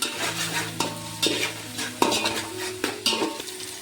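A spoon scrapes and knocks around a pan of chana pulao ingredients in several quick strokes over a soft sizzle, close by.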